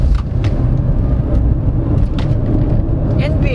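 Steady road and tire rumble inside a small Dongfeng Nanobox electric car driving through Alabang, loud and constant, with a few brief thumps that fit wheels crossing manholes.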